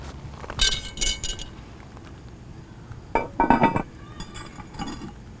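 A heavy Lodge cast iron Dutch oven lid clanks and rattles into place over a beef roast cooking on coals, in two bursts of metallic clinks separated by quiet.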